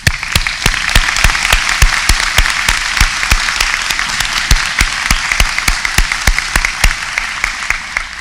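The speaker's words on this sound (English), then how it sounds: "I want to ask for another round of applause for all the award recipients." An audience claps for award recipients at a university academic awards ceremony, a loud, steady wash of many hands with some sharper individual claps standing out, continuing throughout.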